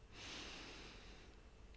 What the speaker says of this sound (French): Je vous invite à prendre une profonde inspiration